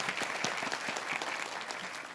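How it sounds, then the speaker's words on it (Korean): An indoor audience at a scholarship award ceremony claps in warm, dense applause, many hands at once, steady and moderately distant with no voices over it. "큰 박수로 환영해 주시기 바랍니다."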